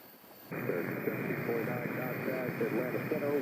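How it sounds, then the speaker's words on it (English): An American Airlines jet airliner arriving at Charlotte-Douglas airport produces a steady, droning engine roar heard from a distance, with radio chatter running over it. "American Airlines swinging in here."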